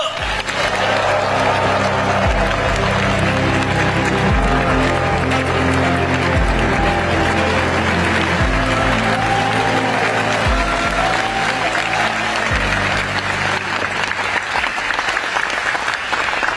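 Loud, sustained applause from an audience at a government policy lecture event in South Korea, welcoming the prime minister to the stage; dense continuous clapping fills the room without letting up.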